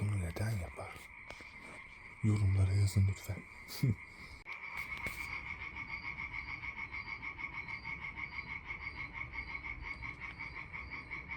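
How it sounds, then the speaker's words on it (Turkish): A dense chorus of frogs croaks in a steady pulsing rhythm, with a voice heard briefly at the start. "Kurbağalar neden siste daha çok vuraklar veya guruk guruk guruk guruk sesler çıkarırlar."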